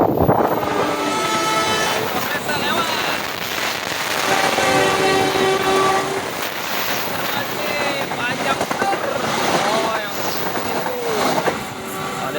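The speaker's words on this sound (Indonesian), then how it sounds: "Ada 2 kereta lewat." A train passes at close range in an urban setting, a loud sustained rumble and rattle with a tonal horn sounding partway through, while voices and wind noise sit underneath.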